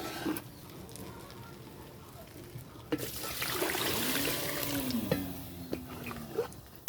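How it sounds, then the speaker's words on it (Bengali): Water pours into a large pot of masala-coated chicken (about five kilograms) for biryani, a rushing gush that swells midway and runs on with faint background voices. "এখন এর ভিতরে পানি দিয়ে দেব"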